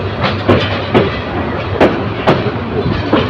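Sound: train leaving railway station

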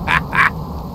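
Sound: angry chicken in video game Subsistence

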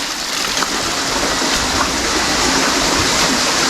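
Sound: flowing stream water

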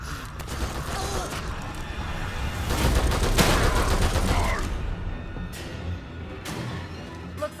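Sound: gunfire in the video game The Evil Within 2

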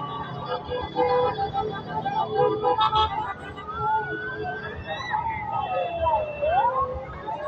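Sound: small fire truck with siren arriving at fire

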